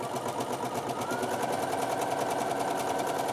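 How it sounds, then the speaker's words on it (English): A sewing machine runs steadily while stitching a return row beside an earlier line of gathering stitches, giving a close, even, fast mechanical whirr with a regular rapid pulse. "you sew right back down beside it"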